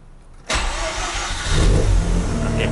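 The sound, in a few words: Mazda RX8 engine hot start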